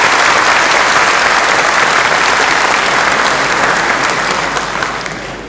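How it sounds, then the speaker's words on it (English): Loud, dense applause from a large audience for a speaker at a public debate, a sustained roar of clapping that holds steady and then begins to fade toward the end. "I think we should give our brother a clap."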